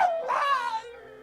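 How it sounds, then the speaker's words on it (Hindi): A dog gives a high, wavering howl that rises and then trails off into a thin whimper, loud and close, heard alone without talk. "पागल कुत्ता लगता है, इसको गोली मार देनी चाहिए।"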